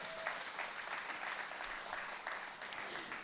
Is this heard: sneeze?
no